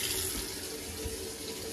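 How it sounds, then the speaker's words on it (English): Hot water runs steadily from a tap into a sink after a Vaillant ecoTEC Pro boiler is repressurised, a constant close rushing flow with a faint low rumble beneath. "we're just going to turn on the hot water to see"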